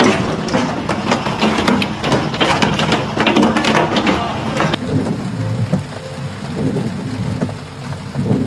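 Hailstorm with baseball-sized hailstones in Alberta, Canada: dense, loud, steady pelting and clatter on surfaces with a continuous roar, sharp impacts thickest in the first half before easing to a softer wash.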